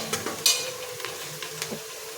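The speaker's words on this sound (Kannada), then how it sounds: "ಪುದೀನ ಕೊತ್ತಂಬರಿ ಎರಡು ಇಟ್ಟ ಇಲ್ಲೇ ಸ್ವಲ್ಪ ಹಾಕೊಂಡು ಉಳ್ಳಾಗಡ್ಡಿ ಫ್ರೈ ಆಗ್ಲತ್ತರಿ." Onions fry in a pan with mint and coriander while chicken biryani is being cooked. A soft, steady sizzle runs throughout, with a few light stirring scrapes and clinks on top. No one speaks.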